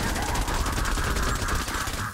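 Candy Corn LMG in Fortnite Save the World fires a steady, rapid stream of automatic shots, a continuous loud rattle lasting a couple of seconds with no voices.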